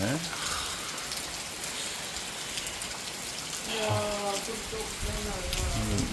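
Heavy typhoon rain in Laos pours in a dense, continuous hiss and patter on surfaces, loud and close, with brief voices and tonal sounds breaking through near the end.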